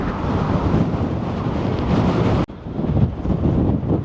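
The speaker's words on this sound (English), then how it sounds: "The wind is so strong, it almost blew the camera out of my hand." Strong wind blasts across an exposed clifftop at a Scottish castle, roaring and buffeting the microphone continuously, with a sudden short dropout partway through before the roar resumes.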